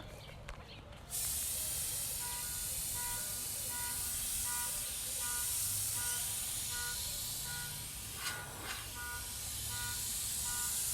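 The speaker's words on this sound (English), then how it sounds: "Now with the airbrush, you're always trying to shoot, especially line work, perpendicular to your surface" An airbrush sprays paint onto a tiki head outdoors in a yard, a steady close hiss that starts after a second and runs continuously, with faint intermittent beeping in the background.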